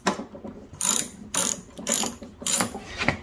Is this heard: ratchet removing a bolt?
yes